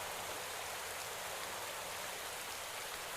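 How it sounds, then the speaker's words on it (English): Steady heavy rain falling during a Tour de France stage in Pro Cycling Manager, a continuous even hiss with no voices. "It is raining now."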